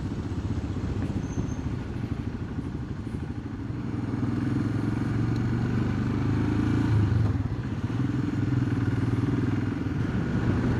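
Royal Enfield Himalayan motorcycle riding off on an autumn road, its steady engine drone and rumble holding loud and close, with a slight rise as it picks up speed and some wind and road clatter.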